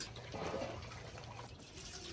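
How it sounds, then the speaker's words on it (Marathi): Cold water being poured into a pot of mutton curry, a steady soft splashing pour that runs for a couple of seconds at moderate distance. "आम्ही इथे थंडच पाणी टाकणार आहोत"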